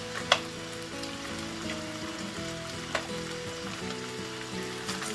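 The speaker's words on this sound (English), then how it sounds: "I'm going to add the onions and the heat is low now." Onions frying gently on low heat give a soft, steady sizzle with a few sharp clicks, set against a constant backdrop of quiet music.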